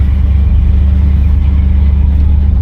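A 1972 Buick GS sun coupe with 53,352 miles runs with a loud, steady, deep engine rumble throughout, close and unbroken.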